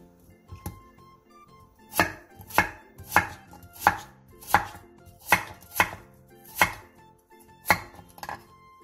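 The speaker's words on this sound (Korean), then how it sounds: "6cm 정도 두께의 무 한 토막도 오이와 비슷한 길이와 두께로 잘라주세요." A kitchen knife cuts cucumber and a chunk of radish into pieces on a cutting board, making about ten crisp, evenly paced chops that land close and clear in a steady rhythm, with no one speaking.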